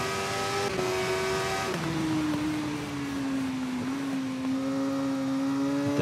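Supersport motorcycle in the TT Isle of Man racing game accelerating, a loud steady engine whine that dips briefly at a gear change and climbs again, continuous and close.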